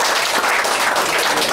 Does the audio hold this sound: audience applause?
yes